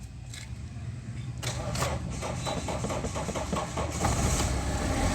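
A Mahindra Xylo with an ECM starting issue cranks and starts, a steady low engine rumble that firms up partway through and settles into an idle, with no voices.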